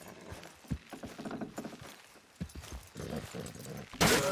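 Horse hooves clop irregularly on the ground in the video game Red Dead Redemption 2, fairly faint and mixed with creaking mechanical noises, ending in a sudden burst of noise.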